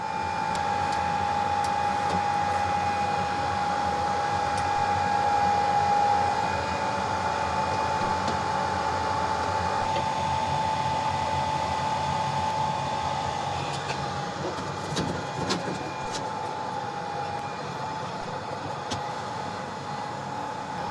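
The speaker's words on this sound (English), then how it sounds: "we do have to use our rework machine to remove it" Steady whirring hum of a BGA rework machine heating a TV mainboard to desolder an eMMC chip, a constant drone with a thin tonal whine, no speech.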